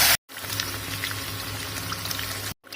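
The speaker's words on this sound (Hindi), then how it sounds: "जो साग का पानी था वो जार में डाल के फिर वापस डाल दिया है हमने" Saag cooking water poured from a jar back into a pan of Kashmiri greens (dagith haakh), a steady close splashing pour that runs unbroken for over two seconds with no talk.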